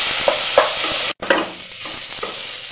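Pomfret fish frying in a pan with chilli coriander paste, a loud close sizzle broken by spatula scrapes and stirs, with a momentary break midway.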